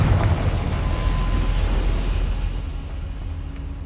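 A Confringo fire spell in Hogwarts Legacy bursts into a broad, rumbling blast with a crackling roar. It holds loud and steady, then slowly fades over a few seconds, with no voices.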